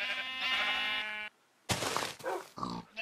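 Sheep in the Minecraft video game bleating, one long sustained bleat followed after a short silence by several shorter, rougher bleats close and clear.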